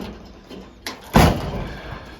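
A custom car door slams shut with one heavy, close thud, preceded by a lighter latch click and followed by a brief rattle as it settles.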